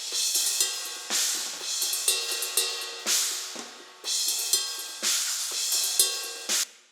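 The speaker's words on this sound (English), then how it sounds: "you really want to get that ping from the ride" A ride cymbal in a metal mix, close-miked with highs boosted and lows cut, is struck repeatedly in a steady pattern, each hit a bright, close ping with a shimmering ring that decays before the next.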